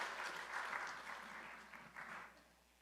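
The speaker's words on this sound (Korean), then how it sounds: "우리 큰 박수로 축복해 주시기 바랍니다." A church congregation applauding steadily during a Sunday service, a dense patter of many hands clapping that swells slightly and then fades toward the end, with no talking.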